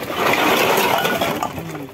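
Tin cans poured from a garbage sack in a loud, close, continuous metallic clatter and clinking that tapers off toward the end, with no talking.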